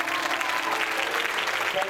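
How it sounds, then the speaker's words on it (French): Dense, steady applause from a church youth gathering audience fills the whole stretch, loud and continuous with a crowd's broad clatter of many hands. "We applaud you, AYC. Let's applaud."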